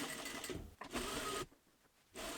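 A domestic sewing machine runs in quick bursts while stitching the side seams of a tiered cotton dress made from a bedsheet. Its rapid whirring stops briefly and then starts again, close and clear, with no voices.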